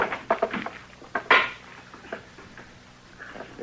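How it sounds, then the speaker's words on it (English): A stick of wood knocking against an old wood-burning cookstove in a hot frontier room, giving several sharp wooden clatters and bangs close by, the loudest near the middle, with fainter knocks trailing off afterward. "You're gonna wreck it banging it on the stove that way."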